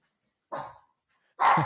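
Dogs bark indoors in two short, loud bursts separated by a brief silence, with no talk over them.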